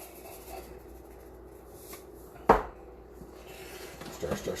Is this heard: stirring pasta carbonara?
yes